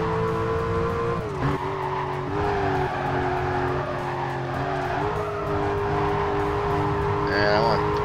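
Race car engine from the Need For Speed Carbon video game, a sustained loud whine shifting pitch through corners, with tires squealing briefly near the end over a steady game soundtrack.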